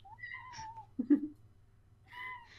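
A house cat meows twice, with a brief low grumble or thump between the calls. The sounds are close and moderately loud over a quiet low hum.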